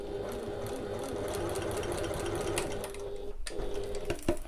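A sewing machine hums steadily as it stitches a pocket, a continuous close whir with light mechanical ticking, briefly dipping near the end before running on; no talk over it.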